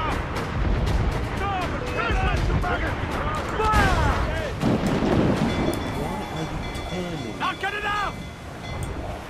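Ship cannons fire a broadside in the pirate game Assassin's Creed IV: Black Flag, heavy booms rolling through amid battle noise, with people talking over the action.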